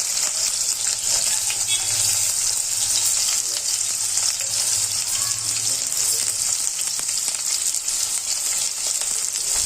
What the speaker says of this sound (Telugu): ఆయిల్ కొంచెం హీట్ అయ్యాక మనం కట్ చేసి పెట్టుకున్న ఆనియన్స్, ఒక 1 ఆనియన్ ని వేసేసుకోవాలి